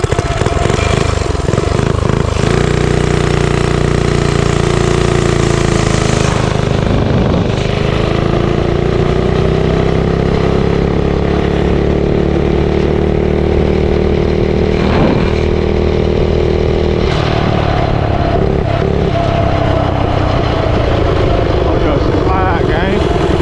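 A custom Motovox mini bike engine runs loud and close with a steady buzzing drone, its pitch rising and falling as it revs, continuous from start to end.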